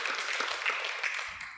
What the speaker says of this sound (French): on peut les applaudir pour ces échanges très riches